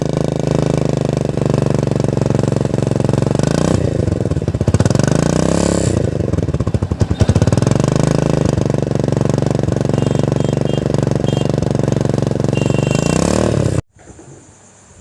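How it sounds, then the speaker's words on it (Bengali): A motorcycle engine is started and runs loudly and close by, with a steady throbbing, clattering idle and a brief surge midway, then cuts off abruptly near the end. "বাইকটা স্টার্ট করে আপনাদেরকে দেখাই"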